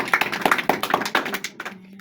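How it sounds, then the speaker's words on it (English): An audience claps for a madam at a village gathering: a quick run of scattered, uneven hand claps, fairly close, that thins out toward the end. "Let us clap for our madam."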